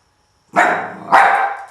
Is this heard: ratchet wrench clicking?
no